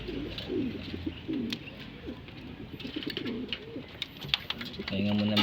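Pet pigeons coo in soft, repeated bursts close by, with low background rustling and faint ambient noise throughout.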